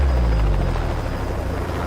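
A helicopter flies over Alaska, its rotor drone loud, close and constant with a deep throbbing low end throughout, and no voices.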